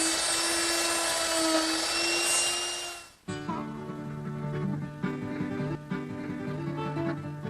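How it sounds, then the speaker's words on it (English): A router fitted with a Roman ogee bit cuts a wooden detail, giving a loud, high-pitched steady whine for about three seconds before cutting off sharply, followed by quieter tonal sound. "I've put it in the router, and because I'm taking off so much wood, I'm going to do it in 2 passes"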